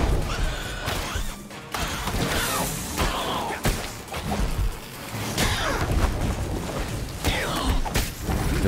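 Horses neigh repeatedly amid a dense, noisy Gotham Knights combat mix, their whinnies rising through crashing impacts, whooshes and clattering mechanical sounds.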